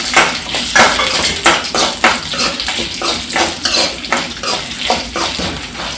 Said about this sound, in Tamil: மல்லி, சீரகம், பருப்பு, உளுந்து, வரமிளகாய் இதெல்லாம் இதோட சேர்த்து நல்லா வறுத்துக்கலாம்.